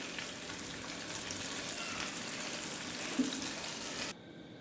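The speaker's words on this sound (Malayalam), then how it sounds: "ബാക്കി ഇരിക്കുന്ന ചിക്കനും കൂടെ ഇതുപോലെ തന്നെ വറുത്ത് പോരാം" Chicken pieces frying in oil for chilli chicken, a soft steady sizzle at low level that cuts off abruptly near the end, no talking.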